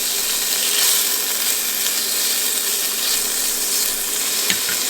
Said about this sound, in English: I'm gonna start with my bacon. I'm gonna let that cook